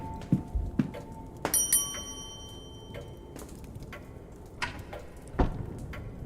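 A service bell in the video game The Séance of Blake Manor rings with a bright metallic ding, its tone hanging briefly over sparse ticking and clicking sounds in a quiet room.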